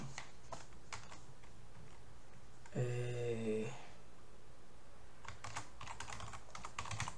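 Keystrokes on a computer keyboard enter values into an Excel spreadsheet: faint, quick clicks in two clusters with a brief tonal hum between them, in a quiet room.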